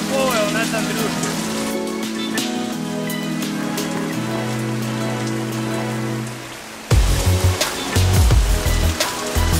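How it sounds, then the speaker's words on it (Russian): A heavy downpour drums on nearby surfaces at an outdoor campfire cooking spot in the Altai mountains, a dense rushing patter that grows louder and closer near the end, with a voice and a tonal drone partly over it. "Начался ливень, что капец вообще."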